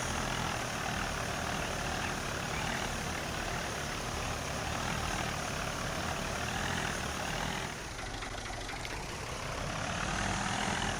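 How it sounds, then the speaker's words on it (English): A tractor in Farming Simulator 19, working with a sprayer, runs at a constant engine drone throughout, steady and dense, dipping slightly for a moment near the end before resuming. "I'm impressed with the tractor and this sprayer"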